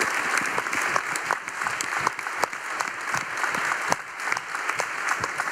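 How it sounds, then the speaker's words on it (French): An audience applauds a 12-year-old girl invited onto the stage at a French colloquium on para-tennis, a steady round of clapping from a room full of people with distinct hand claps cutting through. "Je voudrais que vous l'applaudissiez comme il se doit, car elle a 12 ans."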